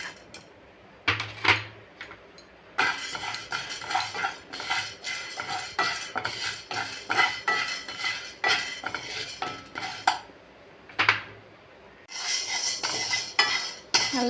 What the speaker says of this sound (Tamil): அடுத்து கடலைப்பருப்பும் துவரம்பருப்பும் வறுக்கும் எதுவுமே எண்ணெய் ஊற்ற வேண்டியதில்லை